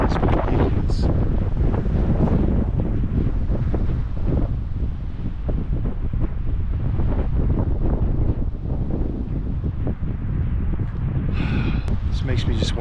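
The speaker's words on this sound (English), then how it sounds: "look at this wind. This wind is ridiculous." Strong wind buffeting the microphone in the Colorado wilderness, a loud continuous roar with gusty rumble throughout and brief higher noises near the end.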